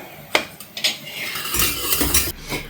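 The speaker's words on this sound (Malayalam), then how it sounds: "ഒരു പത്ത് മിനിറ്റോളായി ഞാനിത് ഇളക്കി കൊടുക്കണം" A spoon stirs a ragi millet smoothie mixture in a pan, with sharp clinks and scrapes against the metal followed by a thicker, swishing stir, close and fairly loud.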